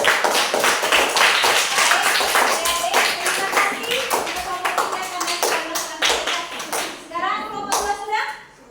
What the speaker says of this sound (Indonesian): Sekarang teman-teman kita memberikan tepuk tangan untuk kelompok 3 yang sudah melakukan presentasi